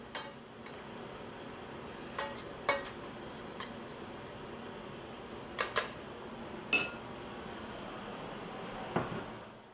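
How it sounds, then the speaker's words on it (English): Rice mixed with seasoning in a pan for Peruvian fried rice gives scattered sharp metallic clinks and scrapes of a utensil against the pan, close and irregular, with no talk. "I'm going to mix it up."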